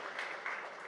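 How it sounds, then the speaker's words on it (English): Short, faint burst of audience applause at a women's leadership conference in India, soft clapping that swells briefly before fading. "A big round of applause for that."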